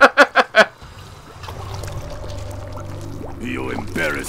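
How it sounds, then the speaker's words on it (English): Wine poured onto a fighter's head in Mortal Kombat X, a short liquid pour and splash after four sharp hits, with a voice speaking near the end. "he just poured the wine right on his head"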